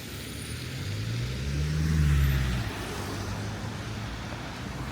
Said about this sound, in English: Traffic, a lot of traffic.